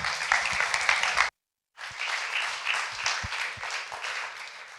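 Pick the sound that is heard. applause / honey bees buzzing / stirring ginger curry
applause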